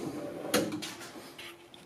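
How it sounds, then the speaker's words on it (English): Privacy drawer on a Husky Industrial 52-inch tool box with a solid black matte finish sliding open, a soft close-range rolling scrape with a brief thump partway through, fairly quiet. "It has this privacy drawer."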